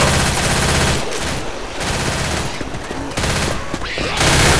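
Rapid gunfire bursts in the video game Left 4 Dead, dense automatic fusillades that stop briefly twice and resume, loud and close, with shouting voices mixed in.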